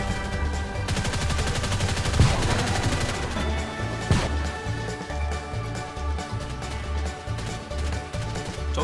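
Gunfire in The Mean Greens, a toy-soldier shooter game: rapid bursts of automatic shots crackle continuously, with a few louder impacts over a busy game soundtrack.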